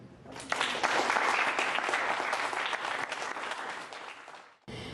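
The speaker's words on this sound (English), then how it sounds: "give another round of applause" Enthusiastic applause from a sizable audience, sustained clapping that swells quickly and slowly tapers off.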